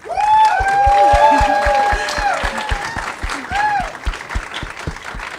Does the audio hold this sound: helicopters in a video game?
no